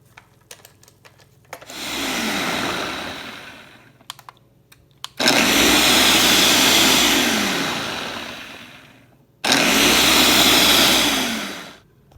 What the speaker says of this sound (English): I'm just going to blend everything together